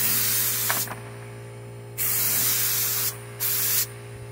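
Spray gun applying a first coat of paint to a Dodge Neon: three bursts of hissing spray, the first about a second, then a longer one, and a short final burst, separated by quiet pauses.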